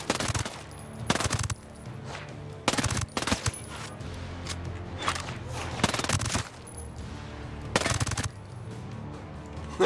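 A Vector submachine gun firing in the video game Ghost Recon Breakpoint, with loud, close, rapid bursts repeating every second or two between short pauses.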